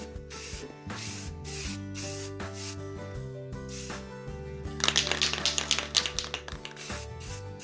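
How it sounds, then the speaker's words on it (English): A nearly empty spray paint can hisses in short bursts over HO scale model railway track, the spray strongest midway, with a steady musical backdrop underneath. "this is actually at the bottom of the barrel, this particular spray paint"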